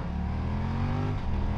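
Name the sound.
BMW F900R Sport motorcycle engine revving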